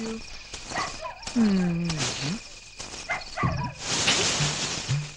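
Dogs bark and howl at night in a comedy film scene, a few sharp yelps and wavering calls rising over crickets and background noise, with a voice briefly in the mix.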